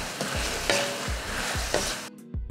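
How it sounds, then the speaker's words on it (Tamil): Tomatoes and ash gourd sauté in a pan with salt and turmeric for sambar, a steady close sizzle broken by several rhythmic stirring scrapes, then a brief dip before frying resumes. "இந்த காய் தக்காளி எல்லாம் வதங்கணும் இல்லையா அதுக்காக உப்பு, கொஞ்சம் மஞ்சள் தூள் சேர்த்துட்டு இதை நல்லா வதக்கி விட்டுறலாம்"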